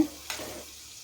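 Peanuts, chana dal and urad dal frying in oil, a soft, brief sizzle with a faint stir that fades quickly.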